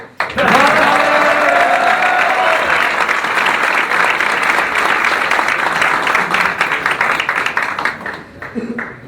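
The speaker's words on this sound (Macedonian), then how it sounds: "За еден народ сигурно треба ракоплескање ово." An audience at a political visit in the village of Podgorci breaks into loud, sustained applause. Dense clapping fills nearly the whole stretch before it tapers off at the end.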